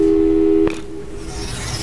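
A telephone call tone in Portal 2 sounds as a steady electronic beep that cuts off abruptly after a brief click, leaving quiet room hiss with no voices.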